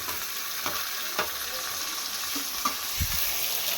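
Tomatoes frying in a pan after onion and garlic have browned, giving a steady broadband sizzle with a few soft scrapes and knocks of stirring, close and fairly loud with no talk.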